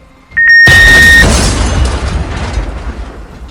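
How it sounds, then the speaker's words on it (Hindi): A short electronic beep from a suicide belt switch is cut off by a sudden loud bomb blast, followed by a rumbling, hissing roar that slowly dies away. "एक जोरदार धमाका हुआ और पल भर में सब कुछ धुएं और चीखों में बदल गया"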